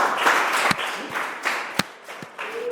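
A class of primary school pupils claps for a classmate, a sparse, uneven patter of hands with a few sharper single claps standing out, moderately close in a classroom.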